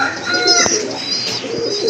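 Fancy pigeons coo close and loud in a steady, throaty stream with warbling tones, and a couple of brief taps cut in.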